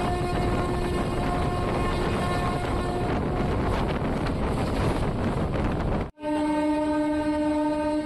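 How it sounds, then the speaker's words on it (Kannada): A passenger train on the Gulbarga to Mumbai route slows as it runs through TK Wadi railway station, its loud steady rumble and wind rush broken by a sustained horn blast, then a brief cut before the horn resumes. "ನಮ್ಮ ಟ್ರೈನ್ ಈಗ ಸ್ಲೋ ಆಗಿ TK ವಾಡಿ ರೈಲ್ವೆ ಸ್ಟೇಷನ್ನ ಸ್ಕಿಪ್ ಮಾಡ್ತಿದೆ."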